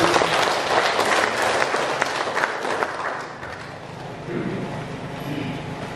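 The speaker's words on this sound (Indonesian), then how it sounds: "Tepuk tangan untuk Tuhan Yesus" Applause from a church congregation at the inauguration ceremony of a church in a village fills the space with dense, loud clapping that thins slightly toward the end, with a few voices mixed in.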